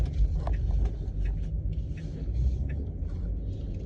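A car passes on a nearby road, a steady low rumble of engine and tire noise that holds throughout with slight swells, heard alone without talk.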